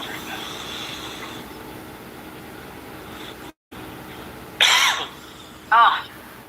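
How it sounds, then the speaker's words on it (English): Two short, loud coughs close by near the end, each a harsh burst, over a steady low background hum. "Oh, God, that cough."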